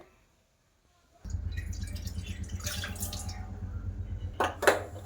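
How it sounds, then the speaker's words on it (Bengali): After a moment of silence, a bowl of water is poured into a frying pan in a home kitchen, a steady close splashing pour ending with a couple of drips and a light clink of the bowl. "তো আমি এই বাটির এক বাটি জল দিয়ে দেব ফ্রাইং প্যানের মধ্যে"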